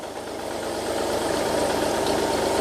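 A Chinese-made tractor fitted with a mounted excavator runs steadily with a rattling, knocking engine, a continuous close mechanical drone with no voices.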